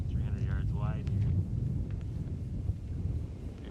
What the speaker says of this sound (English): Pretty windy down here on the shore of the river.